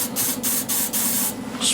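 Paint sprayed in bursts onto wood turning slowly on a lathe, a loud close hiss switching on and off several times over a steady motor hum.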